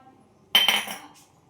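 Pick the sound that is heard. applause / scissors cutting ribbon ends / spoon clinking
spoon clinking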